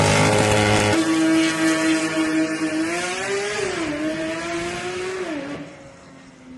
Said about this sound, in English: all the way up to what we have here, which is like the king of the flat 6s, which is that 4-liter that you find in the GT3 RS